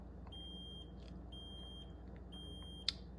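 Remote start beeps from a 2019 Mazda 3, three steady electronic tones in an even sequence, each about half a second long, over low background rumble, followed by a short sharp click.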